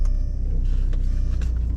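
A car's engine idles on a cold, frozen morning while it defrosts, a close, steady low rumble with a faint mechanical hum and no one talking.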